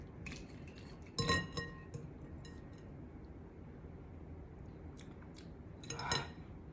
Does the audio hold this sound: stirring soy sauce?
yes